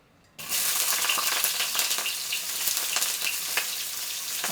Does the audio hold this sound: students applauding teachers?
no